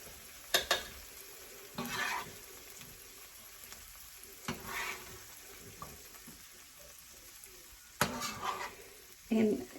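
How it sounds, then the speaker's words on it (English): A cooked zucchini and sausage mixture is scraped and scooped into a crock pot: spoon and pan clatters and scrapes in uneven bursts over a faint sizzle, close by. "take this mixture that's been cooking and put it all in your crock pot."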